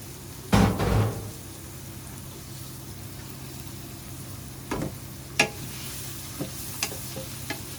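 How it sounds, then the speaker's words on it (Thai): Garlic stir-fried in a pan for Thai-style fried shrimp with garlic and black pepper: a low continuous sizzle broken by a few sharp knocks and scrapes of the utensil against the pan. "เราต้องผัดกระเทียมให้หอมก่อนนะฮะ ให้มันเหลืองก่อนนะคะ"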